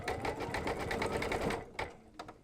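Embroidery sewing machine stitching fabric held in a hoop, a steady rapid needle chatter for about a second and a half that stops, followed by a few faint clicks.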